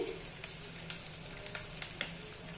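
Ground spices frying in hot oil for a banana flower curry give a continuous close sizzle, with a few light stirring taps and no voices.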